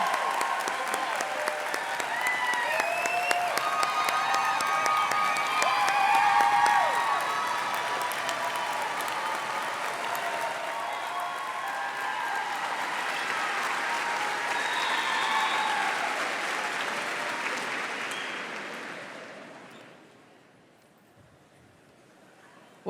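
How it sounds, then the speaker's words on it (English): A large audience at a school district convocation applauds the band directors, a long sustained wave of dense clapping with scattered cheers that swells and then fades out near the end. "We need to give them a round of applause."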